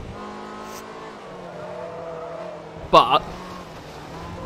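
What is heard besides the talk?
yellow Ferrari F355 racing in Forza Motorsport 3 video game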